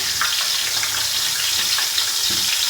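Camel meat dropped into a pot with garlic-ginger paste sets off a steady, loud sizzle and bubbling fry that continues without pause, with no one speaking.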